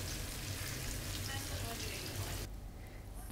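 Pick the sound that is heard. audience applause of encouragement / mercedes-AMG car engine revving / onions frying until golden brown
onions frying until golden brown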